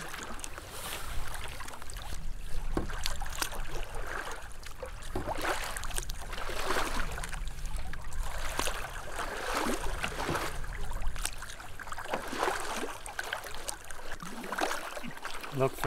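Canoe paddling on a lake in Algonquin Park on a windy day, with steady water swishes and splashes from the strokes beneath continuous wind noise, and voices talking at times.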